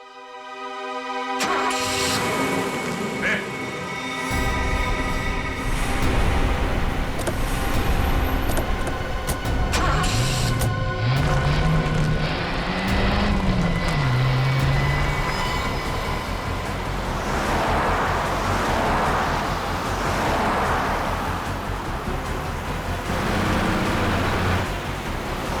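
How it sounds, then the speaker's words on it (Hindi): Car driving fast, a continuous loud rushing road and engine roar with rising and falling whine and scattered tonal squeals, with no talk over it. "गाड़ी बहुत तेज चला रही है।"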